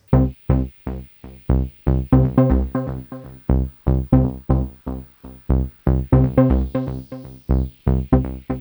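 Short, plucky notes from a Volca Keys synthesizer, controlled by a Circuit, play in a bouncy, steady rhythm, with a slightly muffled, lo-fi filtered tone and a bright sweep rising midway.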